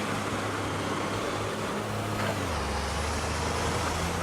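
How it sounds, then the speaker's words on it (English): A truck engine runs steadily in a video game, a continuous loud low rumble with a hiss of air brakes and no voices over it. "Kim, the truck's running."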